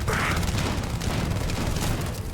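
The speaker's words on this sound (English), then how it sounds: "Feel the explosions on your bones" Continuous heavy booming and rumbling from explosions and gunfire in the video game Starfield, loud and sustained with no pauses.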